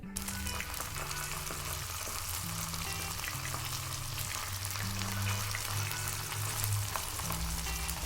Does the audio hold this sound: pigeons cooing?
no